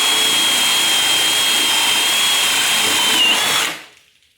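A drill driver whirs steadily at full speed for several seconds with a high whine while driving a screw into wood, then spins down and stops.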